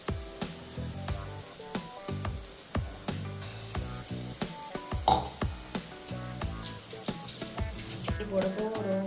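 Onions with ginger-garlic paste frying in a pan for prawn gravy: steady sizzle with repeated stirring scrapes and knocks against the pan, close and fairly loud throughout.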